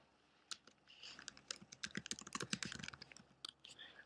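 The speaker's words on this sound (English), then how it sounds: "I would begin typing my content." Typing on a computer keyboard while drafting a web page, a quick irregular run of close, crisp key clicks that starts after a brief pause and continues steadily to the end, with no voices.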